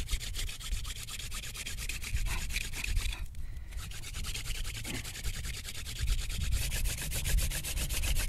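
Wooden spindle of a bow-drill friction fire set grinds into mule fat wood, making a continuous dry rasping rub with fast rhythmic strokes, close and fairly quiet with no voices.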